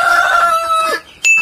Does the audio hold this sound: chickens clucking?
yes